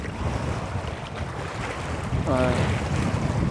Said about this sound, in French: Avec autant de vent, un grand lac.